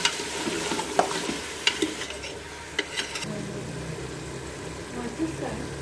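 Finely chopped onion frying with mutton pieces in a pot for mutton korma, a low sizzle with repeated scraping and clinking stirs, some of them sharp, then a quieter steady fry with a faint hum beneath.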